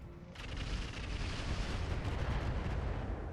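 Inferno rounds firing in the BattleTech mod RogueTech, a sudden heavy boom that swells into a sustained roaring, rumbling barrage, dense and continuous at moderate loudness.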